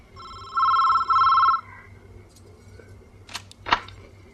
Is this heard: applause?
no